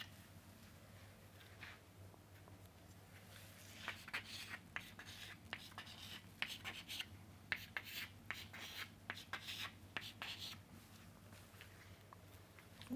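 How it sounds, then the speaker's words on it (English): A pen scratches lines on paper at close range, quiet irregular strokes and rubs in short bursts over a low steady hum, with no talking. "So, I will be drawing it here."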